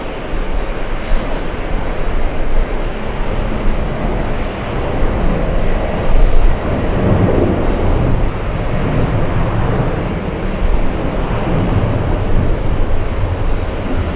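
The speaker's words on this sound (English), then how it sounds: "We have a 767 on the departure roll." Boeing 767 jet on its departure takeoff roll at JFK, a loud continuous engine roar with heavy low rumble that swells slightly midway and stays dense throughout.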